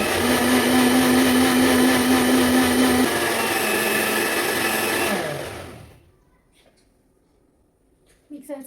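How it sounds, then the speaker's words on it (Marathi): A kitchen mixer churning homemade butter from cream whirs loudly and steadily, its pitch wavering as the load shifts, then winds down and stops, leaving near silence before a faint clatter at the end. "मिक्सरचा आवाज बघितला, कमी जास्त होतो जेव्हा झालं तेव्हा"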